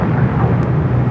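Boeing 737-800 airliner arriving from Calgary, a brief steady low jet rumble, moderately loud and continuous with no talk.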